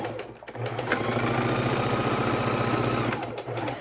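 Sewing machine stitching across a quilted fabric bowl cozy, running in one steady, rapid mechanical burst after a short pause, close and loud.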